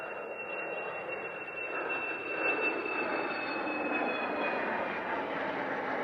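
A plane takes off from Centennial Airport, its engine roar swelling steadily and holding fairly loud from some distance, with a thin high whine running through it and no talk.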